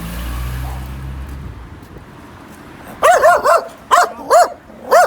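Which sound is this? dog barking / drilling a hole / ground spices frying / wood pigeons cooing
dog barking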